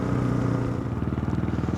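A Kawasaki KLR 650 motorcycle chugs along close by with a rapid, pulsing engine thump beneath steady wind rush.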